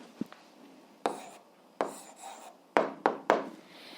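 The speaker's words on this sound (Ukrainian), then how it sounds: "Ну що ж, записуємо відповідь, пишемо відповідь." A pen scratches out an answer on paper during an eighth-grade algebra exercise, a string of short, close strokes that come faster near the end, in a quiet room.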